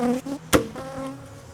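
Honey bees cluster around queen cages in a hive, their steady close buzzing droning throughout, broken once by a sharp knock.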